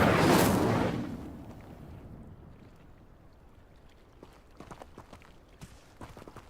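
The Incendio fire spell cast in the Hogwarts Legacy video game bursts out as a loud whooshing blast at the start, then fades into a softer crackling, hissing tail with small scattered snaps.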